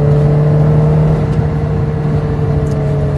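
A Ferrari 360 Modena engine pulls hard at full throttle from inside the car, a loud, steady, droning engine note with a strong low tone that holds without a break.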